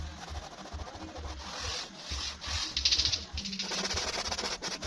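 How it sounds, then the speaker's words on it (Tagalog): A cloth scrubs back and forth over a stained car surface, producing soft, close, rhythmic rubbing and swishing strokes with no talk. "kuskusin lang natin yung ganyan"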